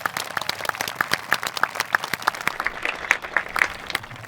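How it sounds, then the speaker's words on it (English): A crowd applauds graduating students at a 2021 early college commencement ceremony, with dense, steady clapping from many hands continuing for about four seconds. "Let's give them a big round of applause."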